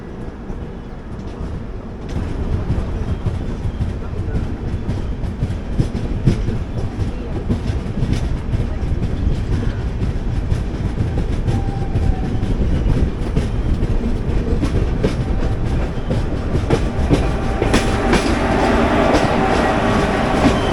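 The 12686 Mangalore–Chennai Superfast express runs along the tracks with a continuous loud rumble and a steady clickety-clack of wheels, heard from inside the moving train.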